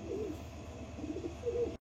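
Black diamond Danish pigeons cooing, soft repeated low coos in a few phrases, close and fairly faint, ending abruptly in silence.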